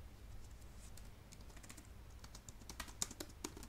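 Typing a command on a computer keyboard, a quick run of light key clicks that grows busier and sharper near the end, faint and close, with no speech.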